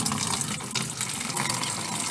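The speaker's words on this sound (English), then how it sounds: "I'm going to turn the water on to fill the watering bucket" Water from a gravity-fed rainwater tank tap pours steadily into a watering bucket, a close, constant splashing rush.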